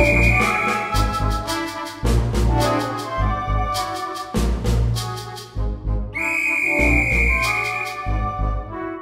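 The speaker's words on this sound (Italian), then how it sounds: "lo sbuffo della locomotiva lanciò il suo fischio" A steam locomotive whistle sounding under a station roof at Calcutta, loud sustained tonal blasts with pauses between them, repeated several times over a rumbling backdrop.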